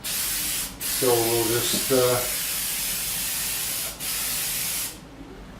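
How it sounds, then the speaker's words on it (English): Window frosting aerosol sprayed onto glass in short hissing bursts, several close spurts with brief pauses between, as someone speaks briefly over them. "So we'll spray it one way, up and down, side to side."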